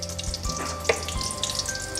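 Bay leaves and butter sizzle in a hot pan on the stove for a Bengali chicken khichuri, a soft steady frying crackle with a few small pops and clinks over a faint background hum.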